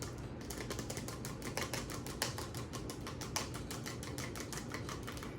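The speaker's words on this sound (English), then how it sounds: "So I'm going to kind of just whip it with a fork." An egg whisked with a fork in a bowl makes a rapid, steady run of faint clicking taps that continues evenly without pause.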